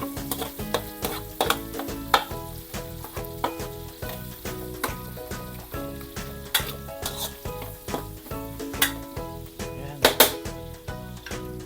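A chopped onion sautés in a hot pan with a steady, close sizzle, broken by frequent scraping stirs and utensil taps in an uneven rhythm.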